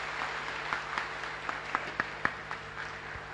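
A small group claps in an uneven, sparse patter at a seminar, with a few sharper individual claps standing out over a steady background hum.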